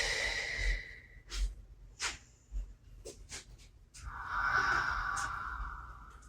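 Slow, audible yoga breaths, with a long airy exhale near the start and another drawn-out breath toward the end, close and soft and broken by small rustles, with no speech.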